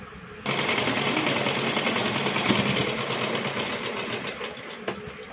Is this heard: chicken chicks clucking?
no